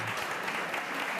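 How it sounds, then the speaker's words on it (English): A public audience at a board of education meeting applauding, a soft steady patter of many hands that carries on evenly from start to end, faint and a little distant. "we can clap for mom."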